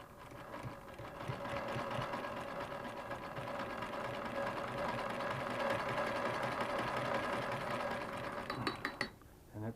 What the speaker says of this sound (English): it's sewing a zigzag